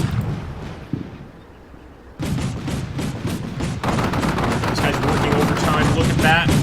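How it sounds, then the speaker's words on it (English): Howitzer artillery barrage in the wargame Combat Mission Shock Force 2, with shells landing in a dense burst of booming impacts that grows louder partway through and stays continuous, loud and close. "Howitzers are coming in."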